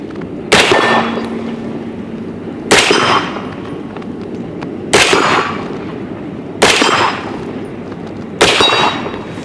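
Five loud gunshots from an Aero Precision AR-10 semi-automatic rifle chambered in .308, each sharp crack spaced about two seconds apart with a ringing tail, fired outdoors with no talking.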